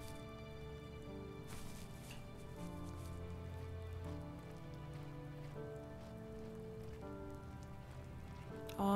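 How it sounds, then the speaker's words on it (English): Steady rain pours down in the video game The Journey Of A Fox, a dense, even patter that runs unbroken under layered sustained music tones, with no talking. "the sound of the rain"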